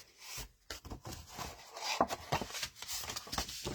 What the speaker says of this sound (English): burnish the folds